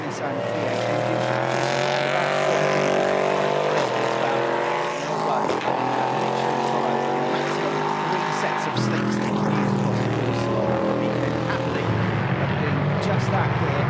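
LMP3 prototype race cars powered by naturally aspirated Nissan V8 engines circle the Oschersleben track, a continuous loud, layered engine drone with shifting pitches as cars pass, under steady commentary.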